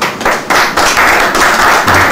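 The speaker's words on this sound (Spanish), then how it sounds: "Vamos a llamar a Josué con el aplauso." A small group at a panel discussion claps for a couple of seconds, with loud, close, irregular hand claps.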